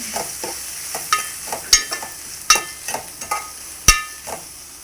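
A spoonful of masala frying in a pan, a low sizzle punctuated by sharp, irregular spoon clanks and scrapes against the metal as it is stirred.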